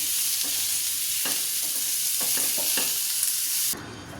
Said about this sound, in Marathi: त्याच्यात टाकले 2-3 मिरच्या, 2-3 काजू, लसूण आणि आलं। हे घेते थोडं परतून।